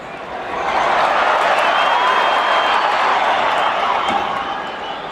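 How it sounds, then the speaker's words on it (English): A large arena crowd at the Rafael Espinoza vs Robeisy Ramirez boxing fight roars in a broad, sustained wash of cheering that swells within the first second, holds loud and steady, then eases slightly near the end. "As you hear the crowd"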